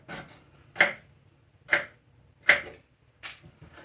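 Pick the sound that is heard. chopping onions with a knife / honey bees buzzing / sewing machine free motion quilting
chopping onions with a knife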